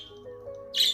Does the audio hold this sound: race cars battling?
no